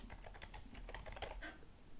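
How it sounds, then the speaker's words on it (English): Quiet, steady typing on a computer keyboard, a rapid run of soft key clicks over about two seconds with no voices. "start typing"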